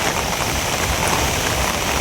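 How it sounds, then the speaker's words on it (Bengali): Heavy rain pours outdoors in a steady, dense hiss, loud and unbroken throughout with no voices. "আপনার বোঝা যাইতেছে অনেক স্পিডে বৃষ্টি"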